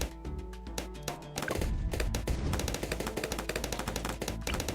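A sniper monkey fires in Bloons TD 6 among other towers, producing sharp, rapid-fire cracks and pops. Bursts come in quick succession, with a dense, loud cluster near the middle, repeating steadily to the end.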